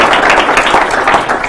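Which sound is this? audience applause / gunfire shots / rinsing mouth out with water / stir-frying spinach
audience applause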